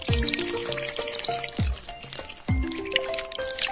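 Cartoon genie shower effect: bright magical water sparkles and drips with bouncy falling-pitch swoops, three quick bloops among twinkling chimes, close and playful.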